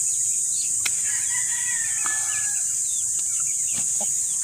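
Farm chickens on a backyard poultry setup, including a Texas-bred rooster, heard as scattered clucks and short calls under a constant high insect-like hiss, moderately near.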